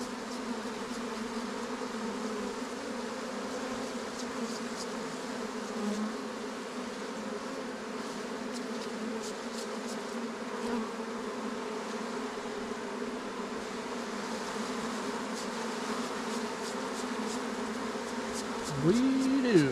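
Honey bees fly around a hive during queen rearing, a dense, continuous buzzing drone that stays close and steady throughout, with brief louder passes of single bees near the end.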